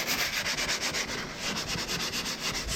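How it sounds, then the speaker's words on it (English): Painted parts are sanded by hand during a house project: steady, rhythmic back-and-forth scratchy strokes, close and fairly loud, continuing without pause and with no talking. "So first I had to sand some parts down."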